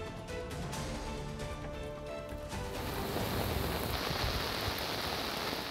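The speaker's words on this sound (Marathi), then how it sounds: "रत्नागिरीमध्ये सकाळपासूनच पावसाची जोरदार बॅटिंग ही सुरू आहे" Heavy monsoon rain pours steadily in Ratnagiri on the coast, a dense continuous hiss that grows louder and fuller about halfway through, with no talking.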